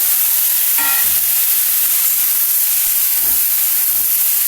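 Okra frying in a pan with black and white mustard seeds gives a loud, dense, hissing sizzle that holds steady from start to finish, close and without speech.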